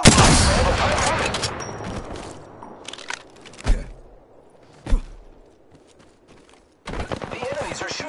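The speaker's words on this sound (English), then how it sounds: "The enemies are shooting at me." Enemies fire on the player in the battle-royale shooter Apex Legends: loud, dense bursts of gunfire and cracking shots, a couple of isolated shots in a lull, then another close volley.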